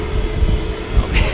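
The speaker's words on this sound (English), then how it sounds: "Hainan A330 just getting ready to enter the active departure runway." Hainan Airlines Airbus A330 taxiing toward the departure runway at Manchester Airport, a steady, loud engine rumble and whine heard over a brief stretch.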